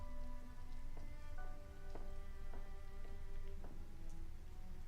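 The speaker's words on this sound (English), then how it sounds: "It's pouring rain outside." Heavy pouring rain in the video game The Armoire, a steady dense hiss that runs throughout, with soft tonal music notes plucked over it.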